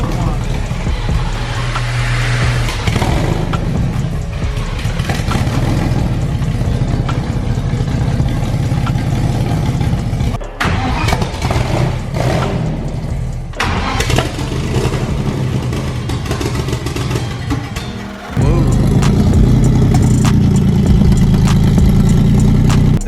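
A BMW E46 M3 drift-build engine runs loudly nearby, holding a strong steady idle with brief revs, cutting out in short dips, then returning to a heavier idle near the end, while voices speak over it.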